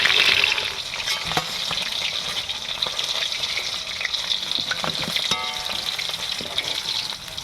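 Snakehead fish sizzles and crackles steadily in hot oil in a home kitchen, a close, continuous frying hiss with occasional sharper pops and no talking.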